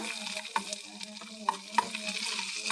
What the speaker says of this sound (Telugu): పచ్చిమిరపకాయలు వేసి తర్వాత కొంచెం పచ్చిమిర్చి ఫ్రై అయినాక